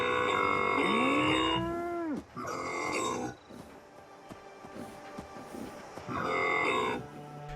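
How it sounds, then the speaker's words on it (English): Sentry bot robot in Fallout 76 giving a drawn-out, cow-like moo, a loud near bellow that sweeps up and holds, then fades into clanking mechanical noise before a second, shorter moo near the end. "Bessie is a sentry bot that thinks she's a cow."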